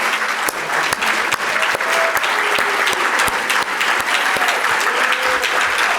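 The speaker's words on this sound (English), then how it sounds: "please give them a big round of applause" Conference audience at a faith gathering applauds the planning committee, a steady wash of many hands clapping with sharper individual claps standing out, moderately loud and continuous throughout.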